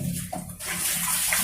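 Water is poured slowly onto the soil of a potted guava air-layering cutting. It makes a steady, close splashing and trickling sound that runs for about a second and a half with nobody talking.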